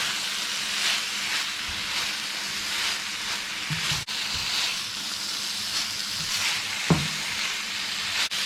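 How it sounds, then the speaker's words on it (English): Beef steak for fajitas sizzles in a hot pan with its resting juices, a loud continuous hiss and crackle in waves, with a couple of brief clunks, and no speech. "Let's get our steak back in there, along with any of those resting juices."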